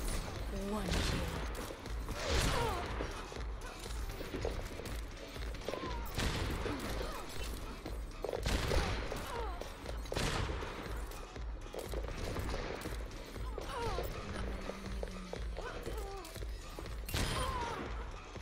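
Gunfire in the video game Castillo, with loud repeated shots and thuds over continuous busy game sound and music, and voices heard under the shooting throughout.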